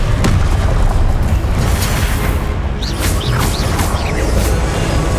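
Confringo blasting-spell explosions in Hogwarts Legacy, a loud, sustained roar of booming blasts and crackling debris that fills the whole stretch with no pause.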